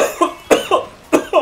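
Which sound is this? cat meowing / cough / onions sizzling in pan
cough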